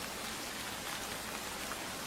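Heavy rain pours down in a steady, dense hiss that stays even and loud for the whole stretch, with no voices or other sounds above it.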